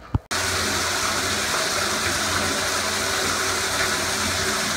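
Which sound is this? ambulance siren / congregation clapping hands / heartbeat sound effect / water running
water running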